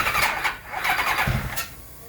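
Kawasaki ZXR turbo motorcycle engine cranking over on a weak battery, a loud, continuous rhythmic starter whir with uneven pulses and no catch.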